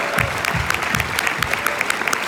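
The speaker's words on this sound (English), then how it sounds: "So they're all applauding" An audience applauds for Joe Pesci, producing a sustained wash of clapping with a few sharper individual claps standing out near the front.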